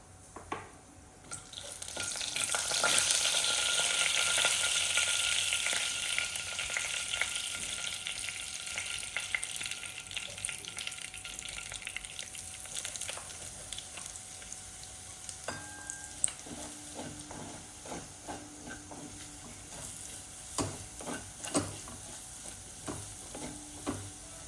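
Asafoetida and ground masala sizzle hard in a hot tempering with mustard seeds for an elephant foot yam palya, a loud steady hiss that swells early, then eases as stirring clinks and scrapes punctuate it, no voices.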